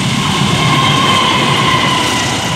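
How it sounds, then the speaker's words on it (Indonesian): An empty coal freight train rolls past close by, a loud continuous rumble of wheels and rattling cars with a faint metallic whine riding on top, in wet rainy conditions. "Kereta batubara melintas langsung kosongan."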